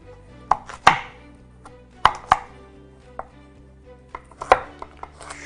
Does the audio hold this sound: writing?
no